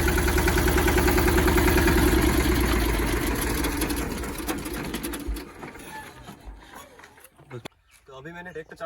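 A tractor engine runs steadily and loud for the first few seconds, then fades and thins out as it winds down, during a hydraulic sensing check.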